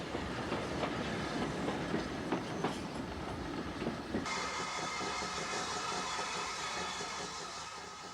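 A steam train on the Cambrian Main Line rolls past with a steady clickety-clack of wheels over rail joints and a soft hiss of steam, loud and near at first, then easing into a more even, slightly fainter rumble.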